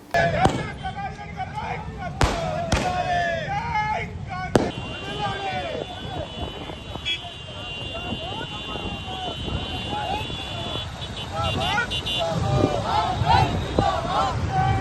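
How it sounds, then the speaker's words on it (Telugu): Firecrackers bursting at a Congress party celebration in Atmakur mandal centre, sharp loud cracks early on followed by continued popping, under a crowd of voices and shouting. "అనంతరం ఆత్మకూరు మండల కేంద్రంలో టపాసులు పేల్చి సంబరాలు జరుపుకున్నారు."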